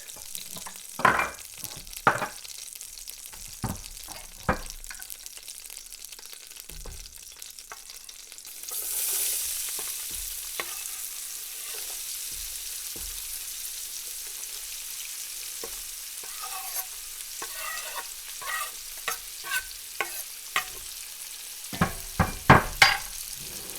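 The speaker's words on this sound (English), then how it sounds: "We're going to go ahead and throw in our onions, chopped onions, and chopped garlic." Chopped onions and garlic hitting a hot pan with antelope drippings: a sudden rush of sizzling that settles into a steady hiss, with occasional clinks and stirring knocks around it.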